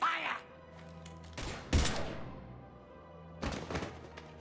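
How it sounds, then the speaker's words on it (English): Gunfire in the video game Mass Effect 3, a few muffled thumping shots spaced across the scene under low game ambience, with voices talking. "Now open fire!"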